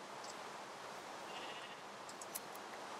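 Faint Minecraft sheep bleat a few times over steady rain-like background noise, short distant calls scattered through the moment.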